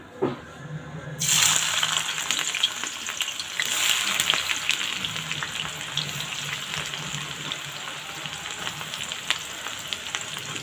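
Onions hit hot oil in a pan, setting off a sudden loud sizzle that settles into a steady, close frying hiss for curry, with occasional stirring clinks.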